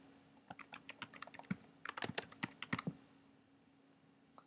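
Quiet keystrokes on a computer keyboard entering a folder name, a short irregular burst of close taps that thickens into a quick flurry before stopping.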